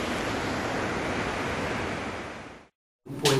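Floodwater rushes in a steady loud roar beneath a collapsing bridge over the Urundaiti ravine between Santa Cruz and Camiri, cut off abruptly before a brief burst of other sound.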